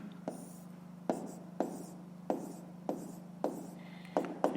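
A pen writes numbers by hand on paper during a fifth-grade math exercise, with close, regular scratchy strokes about once a second over a steady low hum.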